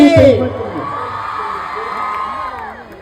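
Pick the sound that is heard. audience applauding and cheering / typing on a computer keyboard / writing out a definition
audience applauding and cheering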